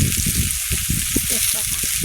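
Garlic frying in a pan, a steady bright sizzle hissing continuously through the short stretch, close and fairly loud, with a voice speaking over it.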